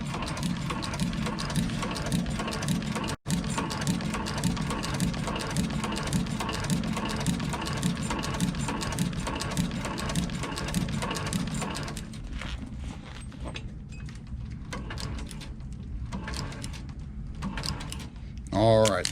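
Sewing machine stitching a foot back onto a Louis Vuitton bag, a steady mechanical whir with rapid needle ticks running for about twelve seconds, then slower, intermittent stitching bursts near the end.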